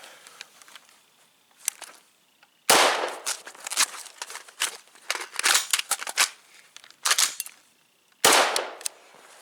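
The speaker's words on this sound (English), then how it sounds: "Notice that during the reload, the bolt actually went home." A Steyr AUG rifle is reloaded by hand, with a series of crisp metallic clicks and clacks of magazine handling and two loud, sharp snaps as the bolt slams home, close and otherwise quiet.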